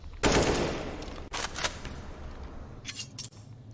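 Rapid burst of automatic gunfire from a spray in a Counter-Strike match, loud and sharp, with a few quick clusters of shots separated by brief gaps.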